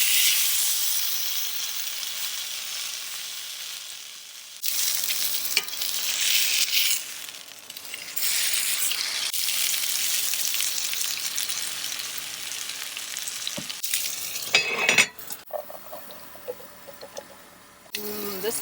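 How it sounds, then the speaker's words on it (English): Olive oil sizzles and hisses loudly in a cast iron pan while cooking in a van, a bright continuous frying crackle that drops and returns with stirring clatter, and a voice speaks briefly over it. "I'm gonna add a little bit of olive oil to this just to grease the pan."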